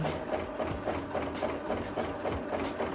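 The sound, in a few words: sewing machine doing free motion quilting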